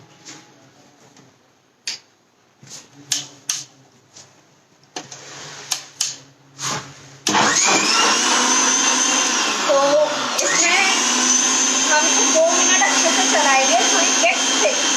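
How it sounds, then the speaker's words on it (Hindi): A kitchen mixer grinder starts up after a few knocks and kitchen sounds, then runs steadily and loudly for the second half of the clip with a constant whirring roar. "और हम इसको मिक्सर में चला लेंगे।"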